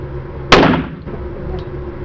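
A single sharp pistol gunshot cracks out close and loud at an outdoor firing range at Plantation Bay, Cebu, then rings off into a brief decay over low background hum.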